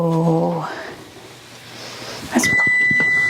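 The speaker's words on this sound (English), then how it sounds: "there goes the timer now." A kitchen timer beeps while apple pie bakes, a steady high electronic tone coming in near the end after a short voice and some quiet kitchen noise.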